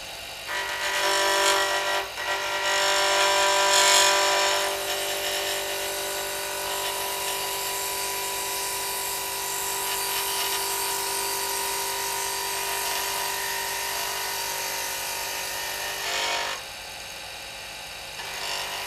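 A wood lathe spins at a constant speed while a bevel-riding gouge makes a smooth finishing cut. A loud steady whir with tonal hum runs throughout and swells slightly at the start and near the end.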